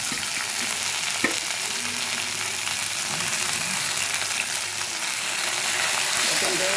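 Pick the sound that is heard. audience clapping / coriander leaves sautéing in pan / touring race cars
coriander leaves sautéing in pan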